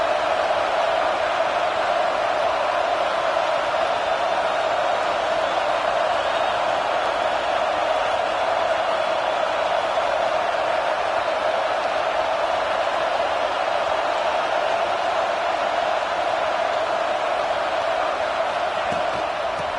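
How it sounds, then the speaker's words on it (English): A fired-up football stadium crowd roars continuously and loudly, a dense, unbroken wash of noise lasting the full twenty seconds with no distinct voices standing out. "this crowd is fired up. Listen to this noise here."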